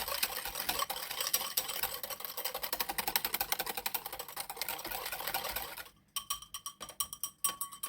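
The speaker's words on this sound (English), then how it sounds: "I'll just whisk it for more than 60 seconds." Pastry cream mixture for diplomat creme whisked briskly in a bowl, a rapid rhythmic ticking of wire against the bowl that keeps up steadily, then continues in sharper, more spaced strokes near the end, close and alone.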